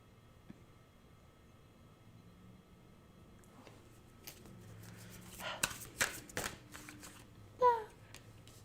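Tarot cards are shuffled in a quiet room, giving a few soft riffles and sharp slapping flicks that grow louder toward the end, including one prominent burst of cards.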